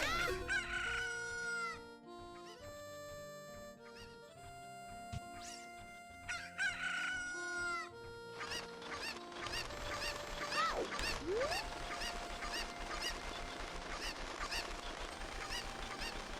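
Chickens in Ocarina of Time crow and cluck over the game's looping melodic music, with a burst of overlapping squawks and clucks building in the second half.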